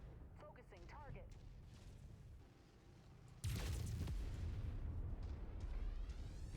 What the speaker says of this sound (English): That's an artillery piece.